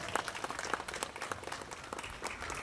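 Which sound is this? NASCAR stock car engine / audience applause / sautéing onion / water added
audience applause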